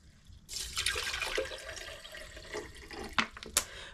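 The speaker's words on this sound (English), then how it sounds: "And now we're going to fill this with water." Bottled water pours into a container, a splashing stream that starts abruptly and runs fairly close, ending with a few separate drips and splashes.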